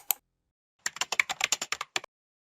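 Close, crisp keystrokes on a computer keyboard while a name is typed: one isolated tap, a short pause, then a quick run of about a dozen clicks that stops abruptly.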